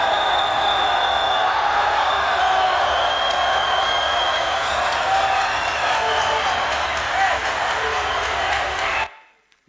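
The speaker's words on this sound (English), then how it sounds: "we have an excited crowd cheering at a cricket game in Pakistan." AI-generated crowd at a cricket game in Pakistan, cheering excitedly as a dense, continuous wash of many voices and shouts for about nine seconds before it cuts off abruptly.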